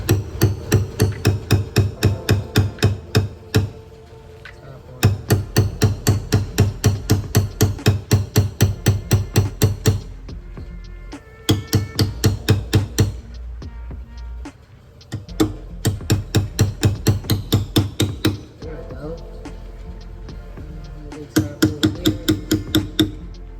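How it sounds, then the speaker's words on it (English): Rapid, steady hammer taps on car body metal while fitting reinforcement plates, coming in several bursts of a few seconds each with short pauses between, close and fairly loud. "Maybe I'll bang on this right here just a little bit because where's my hammer?"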